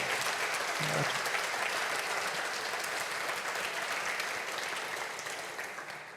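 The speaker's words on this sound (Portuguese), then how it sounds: "Se é para aplaudir, aplauda como crente aí" A church congregation claps in dense, steady applause that fills the room, then slowly fades toward the end.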